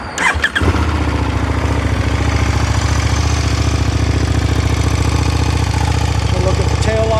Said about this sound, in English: so let's go ahead and crank her up for you